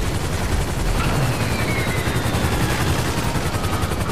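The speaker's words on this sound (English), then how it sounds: "Oh, I shot out his propeller." Continuous aircraft engine drone in GTA Online with overlapping rapid gunfire during an aerial dogfight, shots aimed at an aircraft propeller, loud and steady throughout.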